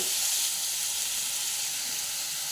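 Chopped tomatoes fry in a hot pan, giving a steady, bright sizzle and hiss that stays even and close throughout with no talking.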